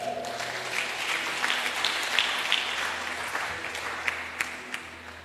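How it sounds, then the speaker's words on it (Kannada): An audience applauds steadily throughout at a religious talk, a dense wash of many clapping hands with a few sharper claps standing out, moderately loud and sustained without speech. "ಅರ್ಥ ಆದವರು ದೇವರಿಗೊಂದು ಚಪ್ಪಾಳೆ ತಟ್ಟಿ."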